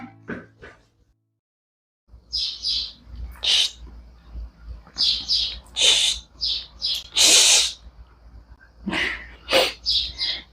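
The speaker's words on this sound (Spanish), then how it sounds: "Pajarito, no me concentro." A small bird chirps nearby in a string of short, bright, repeated calls that come in uneven bursts after a brief quiet gap, each call loud and close.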